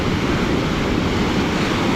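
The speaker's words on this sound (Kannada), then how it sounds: "ಆ ಅಲೆಗಳು ನೋಡಿ, ಆ ಅಲೆಗಳು ಸದ್ದು" Ocean waves breaking on Tannirbhavi beach near Mangalore, a steady broadband wash of surf with wind noise, loud and continuous throughout with no talking.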